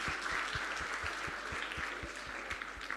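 An audience claps for a presenter at a science festival, a dense, even wash of applause with a soft rhythmic thump beneath it, steady and moderately loud for a few seconds.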